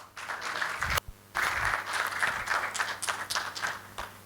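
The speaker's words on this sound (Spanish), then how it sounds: "y un aplauso, por favor" An audience after a presentation on tree biomass in Santa Cruz's metropolitan area claps at moderate distance, a scattered, fairly light applause with a short pause near one second before resuming and tapering off.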